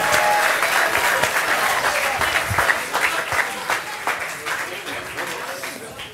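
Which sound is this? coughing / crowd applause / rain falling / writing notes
crowd applause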